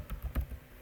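A computer keyboard typed on briefly: a few quick, light clicks in a short burst, close and quiet, with no talking.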